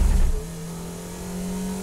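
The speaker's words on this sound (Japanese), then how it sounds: "加速は互角。 ホイールスピン大きいんだ" A sport compact car accelerating hard with wheelspin during a 2010 track battle, a loud, close engine roar with a short harsh burst that settles into a steady drone.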